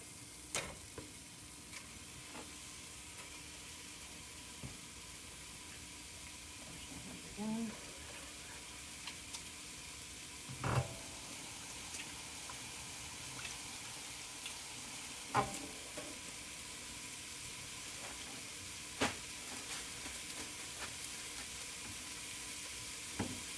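Sausage sizzling in a pot for a sausage and kale soup, a steady faint frying hiss with occasional clicks and spoon taps at the pot, no voices.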